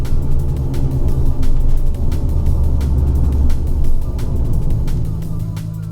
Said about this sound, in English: I need to do rear wheel bearings on this because they sound like this.